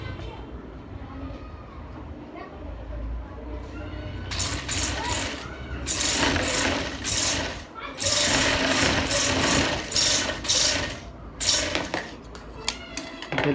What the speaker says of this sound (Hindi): बीच में से एक सिलाई, और बिल्कुल टच सिलाई हो दूसरी भी।